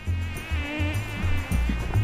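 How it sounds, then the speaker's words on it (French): Mosquitoes on Europa Island in the Indian Ocean whine steadily and close, a thin, wavering high drone that runs throughout, with low thumps and wind-like rumbles beneath it and no voices. "Comment ça se fait qu'il y ait autant de moustiques?"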